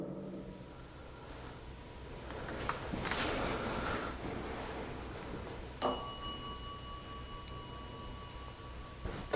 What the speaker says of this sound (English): can you ring that bell?